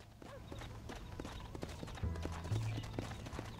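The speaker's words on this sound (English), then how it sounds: "You can ride my horse if you want, dude." Horse hooves clip-clopping in the Red Dead Redemption video game, a brisk, steady trot of close, clear knocks continuing throughout over a low music bed.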